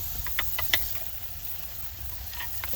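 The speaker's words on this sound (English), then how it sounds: "Hear that baby sizzling?" Steady crackling sizzle of a sirloin steak cooking in a wood-fired oven, with scattered pops and spits over a constant hiss.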